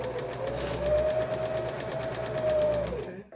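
A sewing machine runs a fast, even stitching burst for about three seconds on a bodice muslin, close and steady, then stops abruptly.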